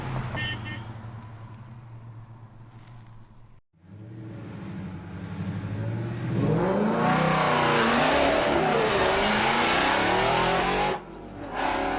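A restored car test-driven on the road, its engine humming steadily at first, then revving and accelerating into a loud, rising roar with shifting tones before cutting off abruptly, with no speech.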